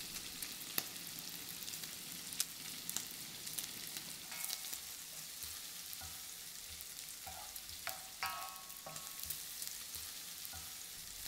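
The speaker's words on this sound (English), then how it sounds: "Add the diced bacon and the garlic and sauté for 8 to 10 minutes over low heat." Diced bacon and garlic sautéing in a pan over low heat for spaghetti carbonara, a steady close sizzle with a few sharp clinks and stirring scrapes, no voices.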